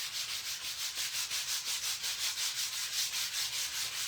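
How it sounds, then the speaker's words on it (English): Steady rhythmic sanding on a wooden fall sign made with a reverse stain technique, a close, even rasp repeating about four times a second with no voices. "we're going to sand again"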